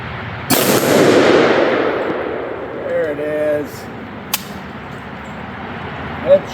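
A 450 Bushmaster rifle fires heavy 345 to 408 grain rounds at an outdoor steel target: one loud, sharp shot that rolls away in a long echo, then a brief sharp metallic crack a moment later.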